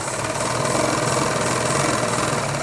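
Sewing machine stitching men's underwear fabric, a loud, close, continuous mechanical whir with a steady fast rhythmic buzz throughout.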